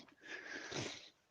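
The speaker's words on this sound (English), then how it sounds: "I've got the sniffles" One long, faint nasal sniff from a person with hay fever, lasting about a second, heard alone.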